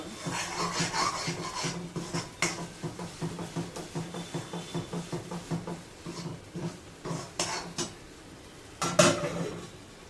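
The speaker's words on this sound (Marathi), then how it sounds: "तर कांदा मसाला आपण फ्राय करून घ्यायचा व्यवस्थित तिथे" A utensil scrapes and clinks rhythmically against a pan, stirring fried onion masala with tomato, ginger, garlic, a little coconut and cashews. The strokes are quick and close, with a sharper clatter near the end.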